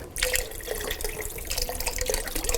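Beef stock pours into a soup pot, a steady splashing, gurgling stream of liquid that starts abruptly and runs close and fairly loud to the end.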